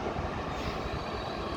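A train rolls into a platform at Paris Gare du Nord, a steady low rumble of wheels and carriages close by, continuous with no voices.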